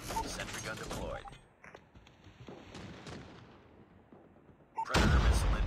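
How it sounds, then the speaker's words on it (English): A sentry gun deploys in a Call of Duty Frontline match on Nuketown, with mechanical clanks and creaks and scattered gunfire, followed by a loud burst of fire at the end. "Sentry gun deployed."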